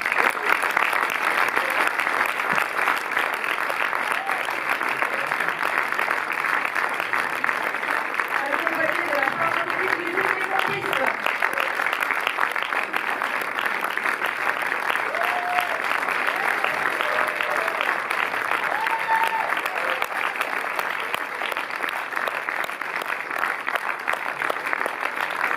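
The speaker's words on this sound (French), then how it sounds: "je vais vous demander d'accueillir et d'applaudir la réalisatrice du film" A cinema audience at a Paris film premiere applauds the film's director, sustained dense clapping filling the room throughout, with faint murmurs and a brief voice or two in the middle.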